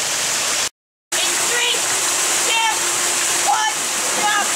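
A big waterfall roaring as a continuous broadband rush, loud and close, briefly cut to silence near the start, with faint tonal chirps riding over the water noise.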